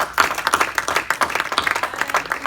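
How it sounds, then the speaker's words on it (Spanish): Church congregation claps hard and fast in a renewed round of applause, individual claps distinct and rapid, rising and falling slightly in loudness. "Démosles un aplauso bueno."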